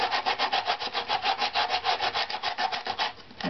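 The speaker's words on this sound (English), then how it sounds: "So here I'm pushing down with the sandpaper here and moving it in that direction to affect sanding in a tight area." Sandpaper rubs back and forth in a quick, even rhythm across a wooden backplate, smoothing rough lines in a tight spot; around two dozen close, loud strokes with no voices.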